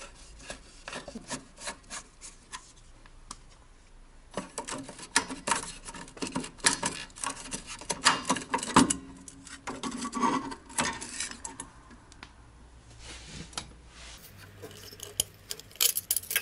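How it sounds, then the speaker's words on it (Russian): Screws being worked loose from the headlights of a VAZ 2106 Zhiguli, heard as close, irregular scraping and rubbing bursts of metal and plastic that come and go over about sixteen seconds, with no talking. "Сейчас открутим три шурупа."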